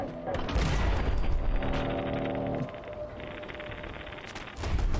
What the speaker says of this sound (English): Is this shooting at us now?